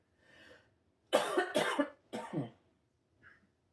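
A person coughs three times in quick succession, harsh and close, after a faint breath, then falls quiet.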